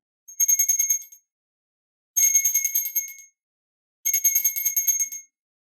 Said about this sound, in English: I'm going to ring a bell and cleanse the area.